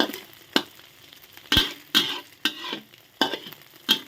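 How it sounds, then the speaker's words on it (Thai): Egg omelette with cha-om leaves frying in a pan: a steady soft sizzle broken by several sharp stirring scrapes and clicks of a utensil at irregular intervals. "ทอดไข่ใส่ผักชะอม กับน้ำพริกกะปิ จ้า"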